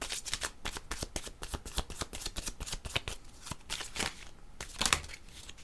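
A deck of tarot cards being shuffled, with rapid rhythmic riffling flutters repeating in quick succession, close and fairly soft, with no talking.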